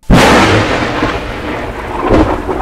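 Heavy rain roars steadily throughout, a dense broadband downpour with a deep rumbling swell near the end, loud and close.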